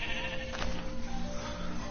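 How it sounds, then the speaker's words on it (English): A sheep bleats in a Minecraft game world, one clear nearby bleat over a constant background hum, with no one speaking. "There's a sheep that's changed colors."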